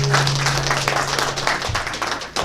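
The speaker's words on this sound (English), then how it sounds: "So please give a round of applause for Alhaji Lateef" An audience at a Nigerian diaspora presidential forum event in Chicago bursts into applause, a close, lively clapping lasting a couple of seconds over a steady low hum from the room.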